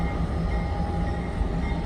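A freight train rolls past on the tracks with a steady, loud, continuous rumble and rail noise from start to finish, with no voices.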